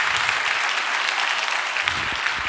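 A church congregation at an Easter service breaks into sustained, close applause, dense and steady clapping for the choir and musical team throughout.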